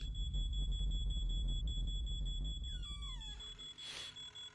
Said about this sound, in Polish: I co tak pipczy cały czas?